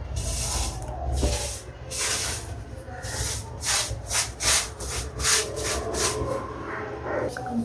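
Paint sprays onto a surface in a series of loud hissing bursts, each lasting about half a second to a second, with short pauses between them and a low background rumble underneath.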